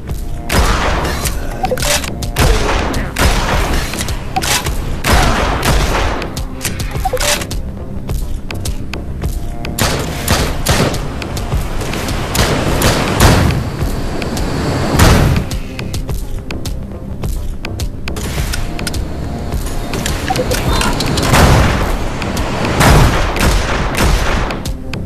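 Relentless rocket explosions and gunfire from the VR shooter Drop Dead: Dual Strike on Oculus Quest, loud dense booms and blasts piling over each other continuously with no pauses.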